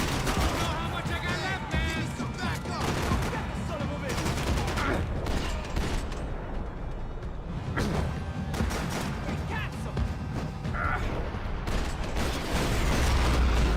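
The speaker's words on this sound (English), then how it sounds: "Yeah, shoot dodge with an AK." Sustained AK rifle fire during a slow-motion shoot dodge in Max Payne 3, loud dense bursts of gunshots running throughout with some voice present.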